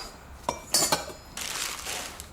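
A martini glass and silver dishes clink and chime as they are handled, giving several sharp, close metallic and glassy strikes, then a softer rattling shuffle, with no talking.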